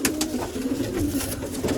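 Pet pigeons, one of them a female, coo softly in short repeated throaty phrases close by, with light background noise.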